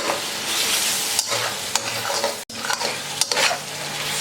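Chicken fries with two tablespoons of biryani masala for a Muslim-style chicken biryani, a loud, crackling sizzle broken by repeated spoon scrapes and clanks against the pot, with a brief sharp knock midway.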